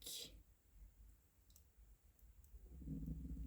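A small plastic Lego piece is snipped apart to make fingers for a scrap-built model, giving a sharp click at the start and another crisp snap at the end, with quiet handling between.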